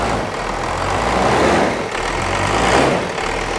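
A 1994 Dodge pickup's 12-valve Cummins diesel idles steadily after more than five years unused, a loud, even low rumble running the whole time with no voices over it.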